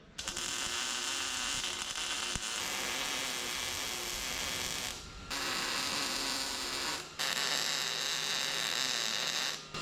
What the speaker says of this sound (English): Weld it.